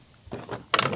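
Part of a SYOZAC 1:14 scale RC off-road monster truck, likely the battery, pushed into place, giving a soft scrape and then one sharp, close plastic click.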